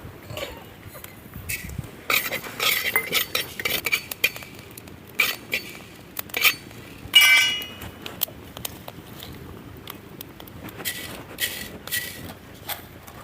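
A spoon clinks and scrapes against a pan while coriander, cumin and cinnamon dry-roast, in irregular close bursts of metallic taps and chinks separated by quieter stretches.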